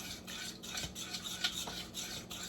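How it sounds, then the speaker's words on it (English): A utensil scrapes and swirls through thickening macaroni and cheese sauce in a pot, soft rhythmic stirring strokes repeating quietly and close with faint clinks against the pan. "Just want to slowly add it as you're stirring it"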